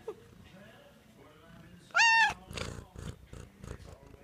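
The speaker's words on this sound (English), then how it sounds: "My cat." A domestic cat gives one clear, loud meow in a quiet room, followed by soft low sounds and light movement nearby.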